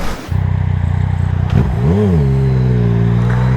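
A loud motorcycle engine drones steadily nearby, then revs with a rising and falling pitch sweep before settling into a high, sustained whine.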